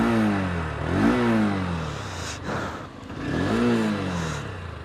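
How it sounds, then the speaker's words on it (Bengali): Honda NX 200 motorcycle engine idling and then revved twice, each rev rising and falling in pitch, loud and close with no talk. "তো প্রথমে গাড়িটা স্টার্ট করি। স্টার্ট করলে আমি সাউন্ডটা আপনাদেরকে বোঝানোর চেষ্টা করি।"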